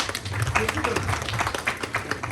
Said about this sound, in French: Je voudrais que vous applaudissiez très fort.